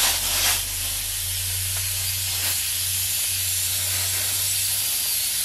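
A shop air compressor hisses air continuously during coil spring and strut work on a 2013 Ford F-150, a steady broad hiss over a low mechanical hum, with a brief louder burst at the start.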